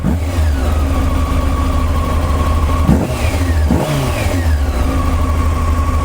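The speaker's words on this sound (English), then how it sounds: "Just give the throttle a little blip." A Honda CBR600 motorcycle engine idles loudly nearby and gets two quick throttle blips, each a short rev that rises and settles back to the steady idle.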